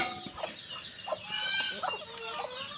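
Several domestic chickens cluck and chatter close by while feeding, overlapping short calls against a soft background murmur.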